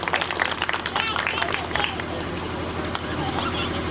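A crowd claps in welcome for guests at a Hanuman Jayanti village gathering in Irni, Azamgarh. The clapping is dense and busy at first, then thins, with voices talking over it.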